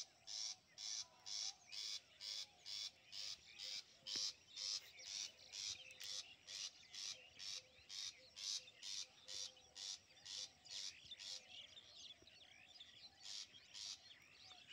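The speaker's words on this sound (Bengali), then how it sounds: "সকালবেলায় যে পাখি কিচিরমিচির করতেছে" Birds chirping in the morning near a farm growing grass and flowers, faint and distant, with a steady pulsing pattern of repeated chirps running throughout.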